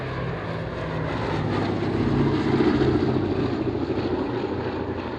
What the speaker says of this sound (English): you've got 4 Wright Cyclone 1200 horsepower engines